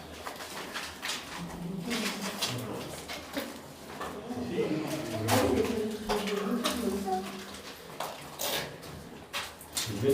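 Pigeons coo inside Fort d'Ambleteuse, a coastal fort, heard beneath steady conversation between several people.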